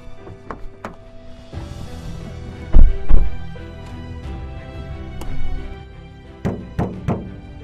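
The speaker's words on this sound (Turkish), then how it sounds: "Kaputa vur, hayat kurtar." Knuckles knock on a car hood in Emirdağ to rouse street animals, such as cats, sheltering in the engine bay: a scattered series of dull, hollow thunks, several louder pairs, close by and otherwise alone.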